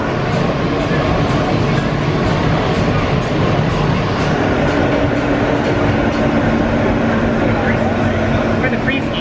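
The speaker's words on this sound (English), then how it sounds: "I really love the subway." A New York subway train rumbles and rattles loudly and steadily throughout the ride, with a dense continuous roar and faint voices mixed into the noise.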